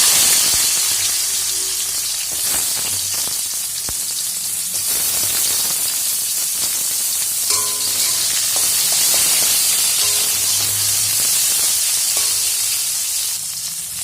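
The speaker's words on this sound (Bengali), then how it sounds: "আমগুলোকে ভালো করে ভেজে নেব" Mango pieces sizzling in hot oil with fried chillies and mustard seed, a loud steady hiss and crackle close up that continues throughout with occasional spatter and utensil clinks, no talking.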